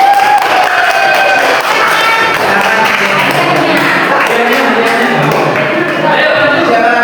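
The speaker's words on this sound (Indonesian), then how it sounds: "Tepuk tangan." A class of students breaks into loud, close applause mixed with cheering and chatter, a dense, sustained burst of clapping.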